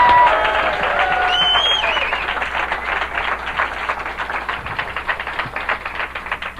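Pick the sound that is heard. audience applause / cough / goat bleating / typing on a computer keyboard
audience applause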